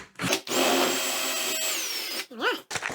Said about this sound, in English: Now I'm going to take my 8mm drill now.